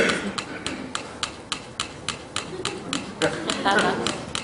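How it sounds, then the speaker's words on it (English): Two tiny metronomes, among the world's smallest, tick together on a table at their fastest setting, a rapid, even stream of sharp clicks close by, with faint background noise and a brief voice near the end. "world's smallest metronome. I've set it on the fastest setting"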